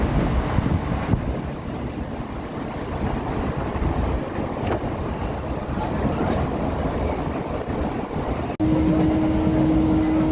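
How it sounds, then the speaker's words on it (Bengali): A train departing Nabadwip rumbles steadily along with heavy wind and rushing noise, ending in a sustained horn-like tone near the end. "ট্রেন চলছিল"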